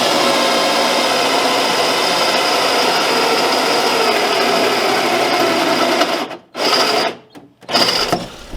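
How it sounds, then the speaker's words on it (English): A power drill bores holes into a hollow steel tube while a mini Jeep trailer hitch is installed, a steady high motor whine that runs for about six seconds, then cuts out and restarts in short bursts. "after you drill your 2 holes, it should look something like that"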